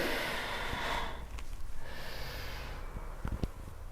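Yoga breathing during a back-relaxation session: close, audible breaths through the nose, with a long airy inhale-exhale followed by shorter puffs and a sharp snort-like exhale near the end.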